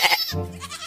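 Goats bleating in a short close call, a nasal quavering cry that starts with a higher shrill burst and drops into a lower wavering tone, alone with no talk.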